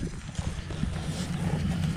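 A mare's hooves clip-clop at a steady walking pace on hard ground, fairly close, with low background rumble.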